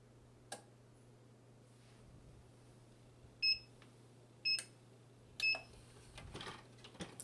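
A heat press timer beeps in three short, clear bursts about a second apart over a steady low hum, preceded by a faint click, with a soft rustle at the end.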